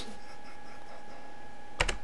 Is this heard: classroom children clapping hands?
no